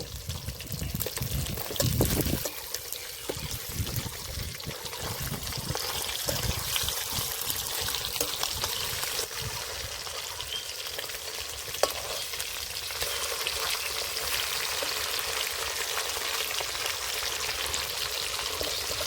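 Steady, loud sizzling of katla fish pieces frying in hot oil, a continuous crackling hiss with occasional pops, no voices.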